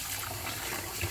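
Running water pours over raw beef being washed for bulgogi, a steady broadband gush like a tap filling a bowl, continuous and close for the whole moment with no talk.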